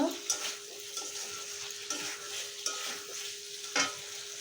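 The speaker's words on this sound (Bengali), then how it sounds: "আমি মশলার সাথে আলুটা ভালো করে কষিয়ে নেব।" Potatoes being fried with spices for a shol fish curry, a close, steady sizzle broken by several sharp scrapes and taps of the spatula against the pan.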